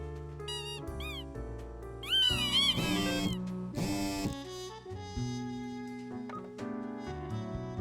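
A cat meows repeatedly in the video game Death and Taxes, a series of clear, close mews and drawn-out cries with short pauses between them, set over a soft sustained musical background with no talking.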